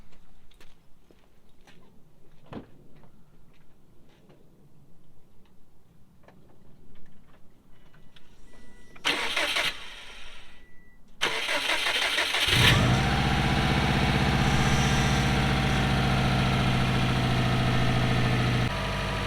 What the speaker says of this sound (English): Well, she's running pretty solid, so I'm gonna let it do its idle thing.